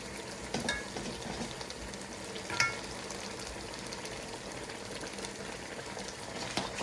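Rice being stirred into a simmering Ofada stew in a pot, a steady soft sizzle and bubbling with a few brief scraping clinks of the spoon, close and fairly quiet.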